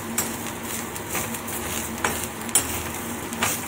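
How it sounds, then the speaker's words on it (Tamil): Grated coconut sautéed with spices and curry leaves for tiffin sambar, giving a soft, low sizzle with a few sharp clinks and scrapes of a utensil against the pan. "நெக்ஸ்ட் தேங்காயையும் ஆட் பண்ணி இதலயே நீங்க நல்லா வதக்கிக்கோங்க"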